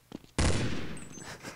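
A sharp, loud gunshot in a Counter-Strike zombies match, one sudden blast followed by a decaying tail and faint later pops, preceded by brief quiet noises.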